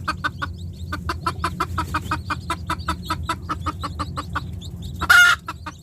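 Native Filipino chickens, likened to wild junglefowl, clucking in a quick, regular series of short clucks close by, ending with a brief louder squawk.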